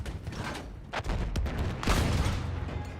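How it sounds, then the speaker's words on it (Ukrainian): A few heavy gunshots and mechanical clacks from a World War I rifle in Battlefield 1, set against a dense, rumbling battlefield backdrop. "Давайте вистрелимо сюди."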